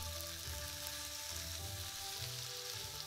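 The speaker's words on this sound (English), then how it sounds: "carefully flip the salmon over with a spatula and brown the other side until the salmon is cooked through" A salmon fillet fries in a pan with a steady, soft, continuous sizzle and crackle, with no voices.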